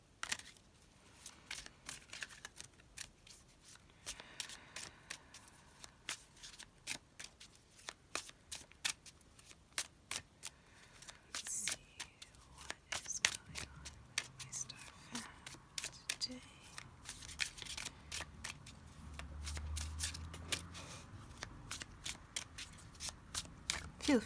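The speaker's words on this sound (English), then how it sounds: "Feel free to fast forward through all the shuffling." Soft, continuous tarot card shuffling with light riffles and taps, quiet and close, running for a long stretch with occasional low thumps.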